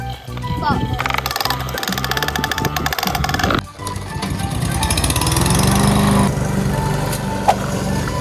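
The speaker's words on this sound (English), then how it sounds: "It's a little mower." A small lawn mower engine running close by, a loud buzzing drone that stutters and changes pitch partway through, steadier toward the end, with voices talking over it.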